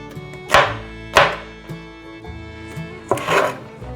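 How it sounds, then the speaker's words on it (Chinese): A knife slices okra into pieces on a cutting board, giving five scattered, crisp cuts against a steady tonal background, close by with no voices. "把秋葵的蒂头切掉，把秋葵切成片状"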